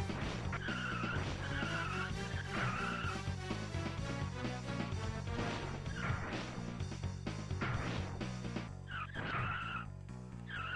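Cars in a video game race skid and squeal their tyres repeatedly over a constant engine drone, with loud screeching bursts and occasional impacts throughout.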